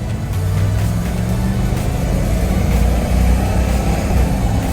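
A 1994 GMC Sierra Z51 4x4 pickup with a factory 305 V8 drives under acceleration. Its engine drones loud and steady from inside the cab, with a low rumble that holds through the gear run.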